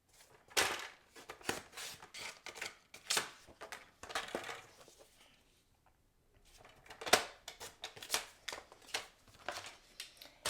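Cardstock being cut to size for a handmade card, a run of close crisp slicing and rustling strokes in quick bursts with a short quiet gap midway.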